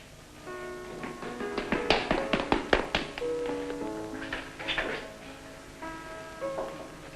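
Light knuckle taps on a door in a Bristol harbourside household, a short burst of quick raps set against soft music, with a few more scattered knocks afterward.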